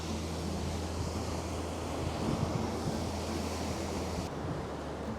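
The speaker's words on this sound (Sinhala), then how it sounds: "මෙතන මේ වතුර ඇවිල්ලා වදින විදිය ගල් වලට" Ocean waves crash against the granite rocks of Granite Island at Victor Harbor, a continuous loud roaring wash with wind rushing over the microphone.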